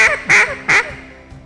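Hen mallard quacks blown on a duck call, two loud nasal honks in quick succession followed by a trailing tail, close and alone.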